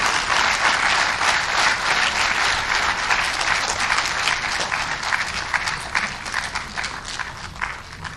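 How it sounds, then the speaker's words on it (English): A town hall audience in Abuja claps to welcome a speaker at a tax reforms meeting, a loud, full round of applause that thins into scattered individual claps toward the end. "join me as I make welcome Miss Dr. Professor of Tax, actually, Dr. Tao Oyedele, with a resounding applause"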